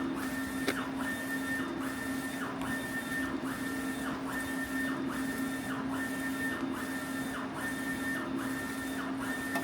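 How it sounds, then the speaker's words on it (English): A print-and-cut laser machine jogging to its next position, giving a steady mechanical whir with repeated rhythmic stepping tones about once a second, close and even throughout. "you're gonna see that your laser or your machine is gonna move to the next position there"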